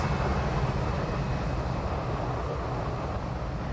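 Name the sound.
IXEG Boeing 737 engine sound in X-Plane 12 video game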